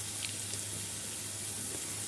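Potatoes going into masala frying in mustard oil for a boal fish and potato curry, giving a steady, hissing sizzle with faint splashy water-like crackle throughout, close and even in level.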